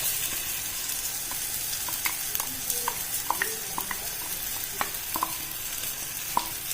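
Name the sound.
ground masala frying in oil while being stirred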